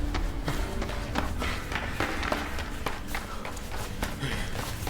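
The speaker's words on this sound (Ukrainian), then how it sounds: "Він починає бігти нагору, на вихід." Quick footsteps of a person running up a flight of stairs, steady rhythmic taps at close range over a dense, noisy game-like background.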